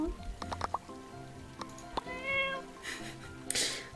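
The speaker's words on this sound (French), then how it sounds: "Un chat." A cat meows inside the video game My Time at Portia, a few short mewing calls with game music and ambient effects, and a person talks over parts of it.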